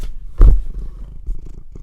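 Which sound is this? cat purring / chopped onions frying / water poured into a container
cat purring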